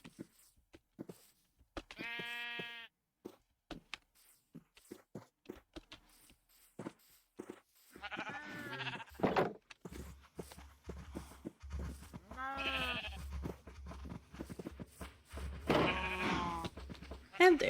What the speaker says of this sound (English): Alright, so we got some sheep, we got some cows.